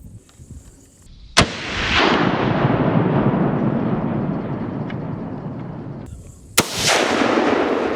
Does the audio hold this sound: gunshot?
yes